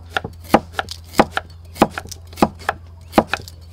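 A knife chops through ingredients for a beef rib noodle soup on a cutting board, about ten sharp, evenly spaced thuds up close with no talking.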